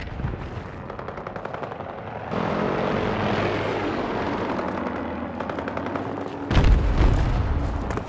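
Aircraft roar through the Battlefield 2042 match on the Noshahr Canals map, a loud sustained engine drone that swells near the end, mixed with bursts of machine-gun fire.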